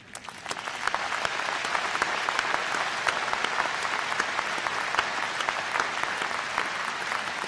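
A large crowd at a university commencement ceremony breaks into sustained, even applause, dense clapping that holds steady for several seconds.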